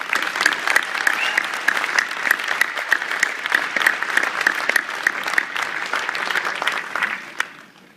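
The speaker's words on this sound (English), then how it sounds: "One more round of applause for past presidents." An audience at a speech applauds past presidents with sustained, dense clapping that holds steady for several seconds, then thins and tapers off at the end.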